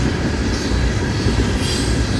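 Tropicana freight train passing on the Florida East Coast Railway, a loud, close, unbroken roar of rolling wagons with a thin metallic wheel squeal riding on top.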